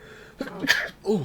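A single sharp human sneeze at a tabletop Dungeons & Dragons game, short and close, followed by a brief vocal exclamation.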